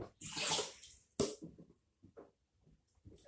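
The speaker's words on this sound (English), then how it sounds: "I gotta fill it up with water to show y'all something" Water runs into a container in a loud rushing burst, stops, then returns in a second shorter gush, followed by a few faint splashes and sloshes.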